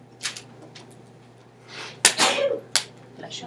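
In a math classroom, a sneeze erupts with a sharp burst followed by a short breathy tail, amid a few faint clicks and soft room sounds.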